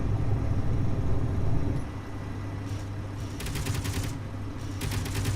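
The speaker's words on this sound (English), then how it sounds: "Gatling gun" Gatling gun in Space Engineers firing in bursts of rapid shots, fairly loud over a steady low engine hum, with short pauses between volleys.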